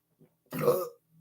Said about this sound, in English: There goes the burp now.